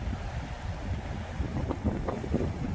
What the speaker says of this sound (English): look at those little rapids there.